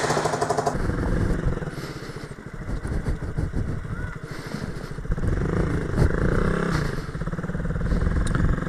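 A Honda Grom motorcycle being ridden, its small engine droning loud and close with uneven rises and dips in pitch, clattering and wind noise throughout, and a few words of speech breaking in now and then.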